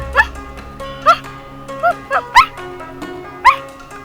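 Puppy in a children's cartoon giving short high yips and whimpers, about six in irregular succession, close and clear over a faint music bed.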